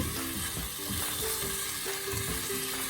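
Green beans with mushrooms, onions and garlic powder sizzle in a hot pan while being stirred, a constant crackle broken by a spatula scraping and clattering against the pan at an uneven rhythm.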